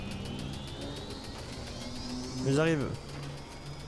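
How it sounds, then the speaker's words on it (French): A flying motorbike engine in the video game Call of Duty: Advanced Warfare whirs steadily beneath someone speaking, swelling into a brief louder whooshing sweep near the end. "On conduit une moto volante."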